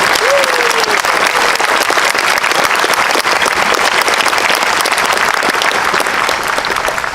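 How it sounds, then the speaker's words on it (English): Crowd at a naturalization ceremony applauds the U.S. Army Continental Color Guard, a dense and steady wash of clapping that stays loud and even throughout. "How about a round of applause for the U.S."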